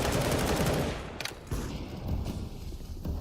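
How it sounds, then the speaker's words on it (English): AWP sniper rifle shots in a Counter-Strike match, sharp gunfire bursts with a loud onset that fades around one second, then more shots at about 1.5 and 3 seconds amid dense in-game noise. "Shots out of the AWP."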